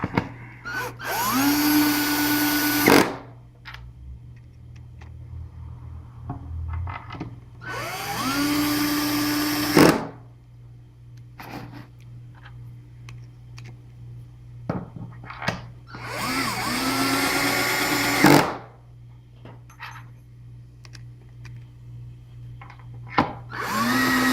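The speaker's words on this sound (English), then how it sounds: "Now all I got to do is put my screws back in." A power drill drives screws to mount a router plate in a router table, three close, loud whirring bursts each a few seconds long with pauses between.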